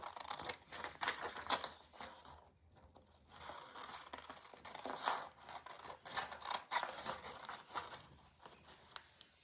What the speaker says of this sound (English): So we'll just cut this one out.